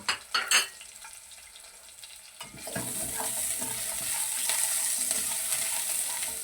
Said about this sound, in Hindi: मैं चिकन भी साथ डाल रहा हूँ क्योंकि इसको हमने अच्छी तरीके से अब फ्राई करना